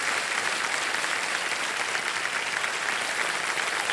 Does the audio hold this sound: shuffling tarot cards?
no